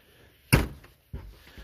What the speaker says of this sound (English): Can I shut the door?